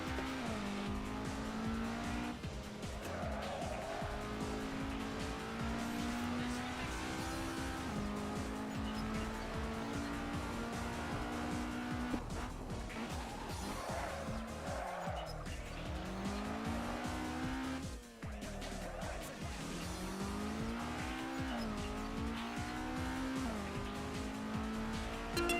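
Race start in Assetto Corsa with a pack of sim race cars launching together: a dense roar of engines revving and shifting, tyres squealing and skidding, sustained loud throughout.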